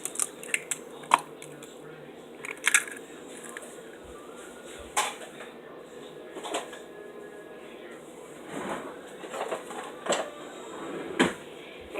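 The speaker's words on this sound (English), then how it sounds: "I chose a spoon. So just chop up the egg. Just mix up the egg." A spoon mixes a raw egg in a cup, making light, irregular clinks and taps against the cup, scattered sharp ticks spread over a steady faint background.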